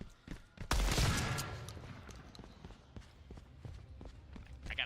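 A single loud shotgun blast in a video game shooter, followed by scattered lighter thumps and footsteps, fairly close.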